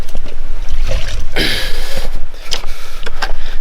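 Gravel sloshes and rinses with water in a gold pan, uneven splashing and swishing bursts close to the microphone, with a strong wet rush in the middle.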